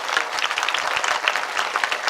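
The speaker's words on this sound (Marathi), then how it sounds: "जरा जोरात वाजत टाळी" Crowd applause at a Hindu devotional kirtan gathering in a Maharashtra village, steady dense clapping from a large audience, fairly loud and continuous throughout.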